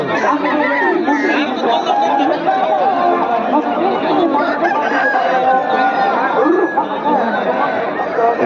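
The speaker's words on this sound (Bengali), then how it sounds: "দেখছেন, এত মোরগ।" Loud, dense chorus of roosters and hens at a cockfighting ground, crowing and clucking continuously, with a crowd chattering throughout.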